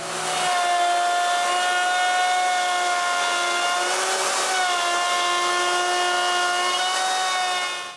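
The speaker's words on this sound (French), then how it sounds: "je coupe, là aussi, en 2 passes, la deuxième rainure" A power tool cutting a second groove in wood, in two passes, holds a steady loud whine with a sustained tonal drone that dips slightly in pitch midway, close and continuous for the whole stretch.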